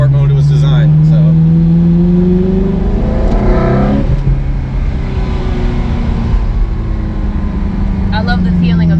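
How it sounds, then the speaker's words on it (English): Onboard sound of a 2003 Ferrari 360 Modena V8 in sport mode, loud and close, rising through the revs, dropping briefly at a gear change, then climbing again, with a steady droning engine note throughout. "That Ferrari V8 behind you."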